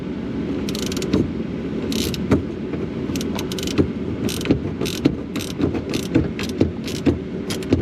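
Ratchet wrench loosening a tight, thread-locked bolt on a car's power window regulator, with a steady run of close clicks over a mechanical background.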